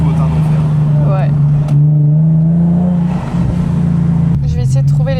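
A Nissan 370Z Nismo at the Spa Asia event drones loudly from inside the cabin, a steady low engine hum that rises slightly in pitch at times, with people talking over it.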